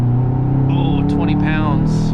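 A 2008 Subaru Forester XT Sports with a five-speed manual pulls hard in third gear, its turbocharged engine droning steadily with a rising whine, heard from inside the cabin, loud and continuous.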